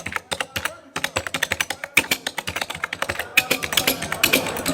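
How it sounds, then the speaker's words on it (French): A computer keyboard is typed on in a quick, uneven run of sharp clicks and taps, close and clear, with a few short pauses between bursts and a faint voice now and then. "Ah, c'est un clavier d'ordinateur,"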